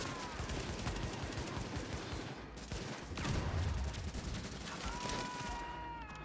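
Heavy, continuous gunfire with booming shotgun blasts fills a firefight at the WarrenGate Power Plant in The Division, loud and dense throughout, with a particularly strong low-end blast cluster midway.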